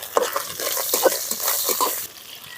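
Dried red chillies and coriander frying in a pan for sesame rice, a soft sizzle broken by repeated scraping stirs of a spoon, close and moderately loud.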